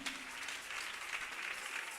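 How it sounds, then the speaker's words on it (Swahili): A congregation at a long church service gives the DJ and musicians a round of applause, a faint, steady patter of many hands clapping from a distance. "Tuwapige makofi tena."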